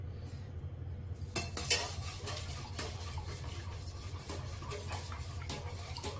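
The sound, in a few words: spoon stirring pizza sauce mixture in a pan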